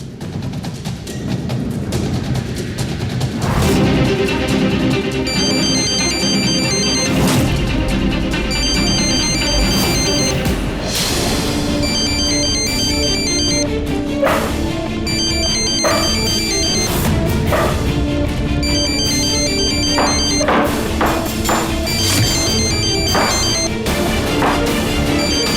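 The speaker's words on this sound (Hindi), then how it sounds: "मैं फोन ट्राई करता हूं उसका।" A phone ringtone plays continuously as someone places a call, a repeating melodic tone pattern heard clearly and alone with no talking over it.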